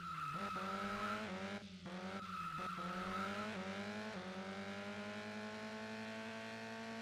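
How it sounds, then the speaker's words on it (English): A racing car engine in the video game Turbo Sliders Unlimited whines at high revs, pitch climbing and dropping through gear shifts, loud and continuous with no voices. "the engine sound sounded way better than I thought they would"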